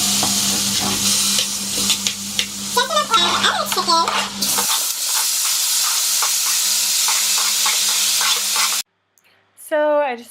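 Chicken simmering in two separate pots on a stovetop at medium heat, a steady loud sizzling hiss with stirring clatter in the first half, then a quieter continuous sizzle and a brief sharp squeal near the end.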